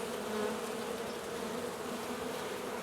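Honeybees hum in a dense, continuous drone at an open hive being checked before spring build-up, steady and close with no voices.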